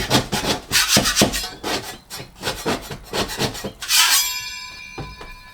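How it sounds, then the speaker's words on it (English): A scraper rasps over drywall finishing on walls, knocking off lumps in repeated short, gritty strokes with an uneven rhythm and a brief metallic ring near the end. "I'm just going around and scraping any lumps and bumps off"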